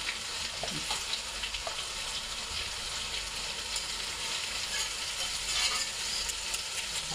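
Meat frying in a pan gives a steady, dense sizzle with soft crackles that holds at an even level throughout, close by and without any voices.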